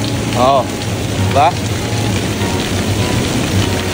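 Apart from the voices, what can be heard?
flowing water of Symphony Streams water feature, like waterfalls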